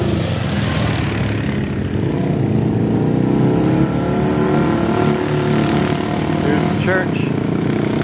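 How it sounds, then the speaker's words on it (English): Dirt bikes passing by outdoors near a church on a rainy camping trip, a loud, rising and falling engine drone that swells and fades, with a person talking over it. "I think there's some dirt bikes coming."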